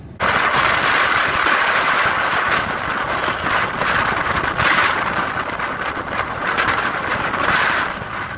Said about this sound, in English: There's gonna be a lot of wind noise on this video.